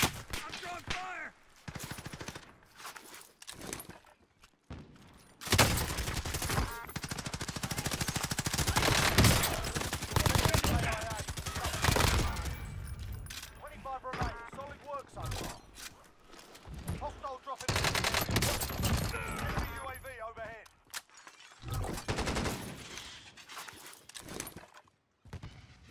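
Rapid bursts of gunfire in the battle-royale video game Call of Duty: Warzone, loud and dense with machine-gun-like volleys and scattered shots, mixed with game effects and occasional voice lines.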